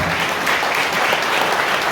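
A church congregation at an annual conference applauds, with dense, steady clapping from a crowd held at an even, fairly loud level throughout.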